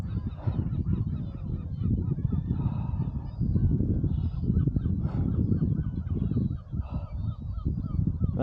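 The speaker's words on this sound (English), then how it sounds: "You can hear the birds, like," Geese honking outdoors along a hiking trail in the Maas valley, Netherlands, a loud, busy chorus of overlapping honks and calls continuing nonstop, close and dominant.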